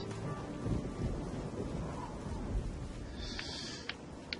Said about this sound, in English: it's beginning to rain